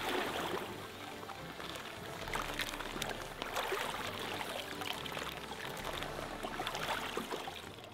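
Pond water is poured steadily into a container while acclimatising koi fish, a continuous close splashing trickle that runs the whole time with no talk over it.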